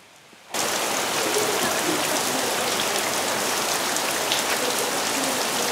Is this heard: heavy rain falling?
yes